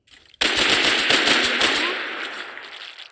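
An M4 rifle in a video game fires one rapid automatic burst, loud and sharp, then the echo and ring trail off over the last second or so.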